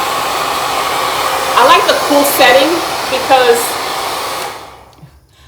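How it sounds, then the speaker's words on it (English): A hair dryer blows on its cool setting close by, a steady loud whooshing hum that cuts off near the end, with someone speaking briefly over it. "I put it in the cool setting, okay? I'm just blow drying my hair here."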